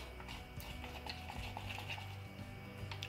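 Glitter slime is stirred in a bowl, giving a continuous wet, sticky squelching and scraping against the bowl at close range, with no voices.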